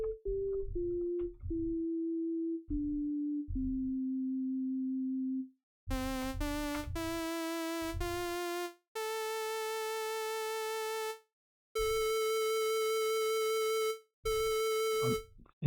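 Pure sine-like test tones from a software synthesizer in the middle octave, stepping through a short melodic run of steady sustained notes, then brighter buzzy harmonic tones with gaps of silence between them.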